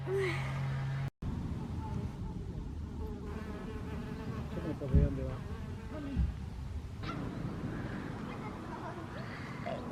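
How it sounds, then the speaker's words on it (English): Bees buzzing continuously around an allotment garden, a droning hum with varying pitch as they fly near and away, with a voice talking over it. "Can you see these bees flying around everywhere?"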